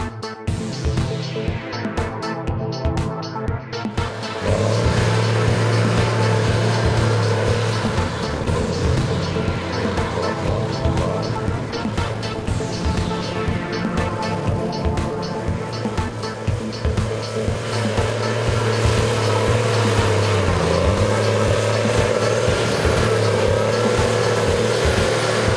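A Tigercar 630C skidder hauls 3.5 to 4-ton mountain ash logs up to 50 meters long in Tasmania, its engine droning steadily and loud throughout with a heavier, deeper load coming in after the first few seconds.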